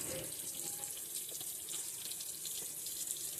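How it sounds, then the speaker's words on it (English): Hot water gushes from a kitchen faucet into a sink in a steady, hissing stream, close and constant for a few seconds with no voices over it. "first thing is we're running our water super hot because we don't want to clog our drain"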